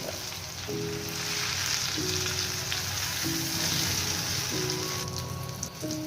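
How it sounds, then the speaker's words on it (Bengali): Eggplant slices fry in a hot pan with steady, close sizzling and crackling that runs unbroken and fairly loud, while several short tonal kitchen beeps or clinks sound at intervals. "এখানে বেগুনগুলি ভাজি করছি, বেগুনগুলি দিয়ে দিচ্ছি ভাজি হওয়ার জন্য।"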